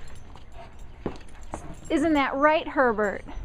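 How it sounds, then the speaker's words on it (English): A wolf dog outdoors in the cold gives a run of rising and falling whimpering whines, close and fairly loud, following a person speaking to it. "Because you're a wolf dog."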